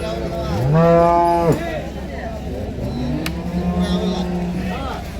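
At the Ranebennur cow market, HF cross dairy cattle moo loudly and close by in one long rising call, then a lower, softer moo follows. People talk in the background amid the market bustle.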